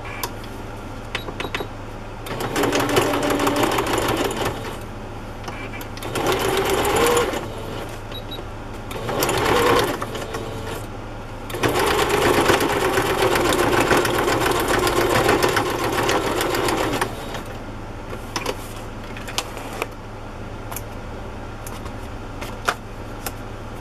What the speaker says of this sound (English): Sew it right across the top.